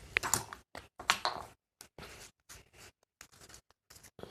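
Scissors cutting through card in several short, crisp snips separated by brief pauses, close and quiet, with no talking.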